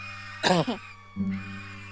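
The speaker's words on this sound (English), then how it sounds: "excuse me, I'm coughing" A narrator reading a horror story about a television show coughs twice in quick succession, close and moderately loud, followed by a brief throat-clearing hum over a steady low electrical hum.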